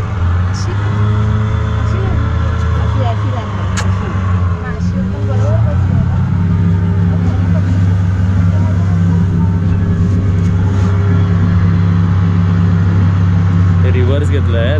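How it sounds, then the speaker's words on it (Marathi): A boat's outboard engine runs steadily with a loud, close, continuous low drone throughout, while people talk over it. "इंजिन स्टार्ट केली आता ना"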